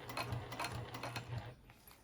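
Sewing machine top stitching along the edge of a vinyl zipper pouch, a short close rhythmic run of stitches that stops partway through.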